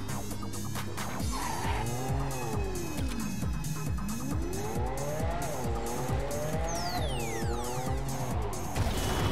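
A car in the video game Cyberpunk 2077 drives hard, its engine droning steadily while the tires squeal repeatedly through sliding turns, loud and continuous with no one talking.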